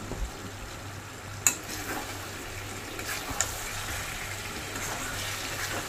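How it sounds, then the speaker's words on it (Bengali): Mutton curry seasoned with garam masala is stirred in a pan, a soft continuous sizzle with a couple of sharp scrapes or clinks of the spoon against the pan, heard alone and fairly close. "গরম মশলা গুঁড়ো দিয়ে দেওয়ার পর ভালো করে নেড়েচেড়ে একবার মিশিয়ে নিচ্ছি।"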